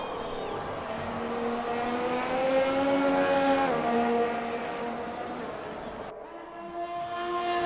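Race car in a racing video game flooring it to start a flying lap on soft compound tyres, engine note climbing through the gears in steady rising sweeps, loud and close, with a sharp upshift drop near the end.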